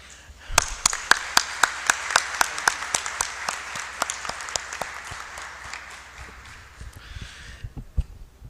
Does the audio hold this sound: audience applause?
yes